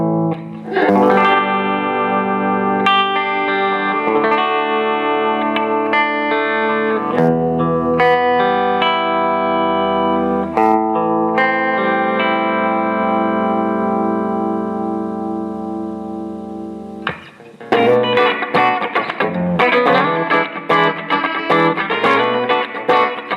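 Electric guitar played through a 2002 Fender Twin amp at low volume with light crunch, heard in a large room with natural reverb. Sustained chords and single notes ring out loud and alone, followed by quicker choppy strums near the end.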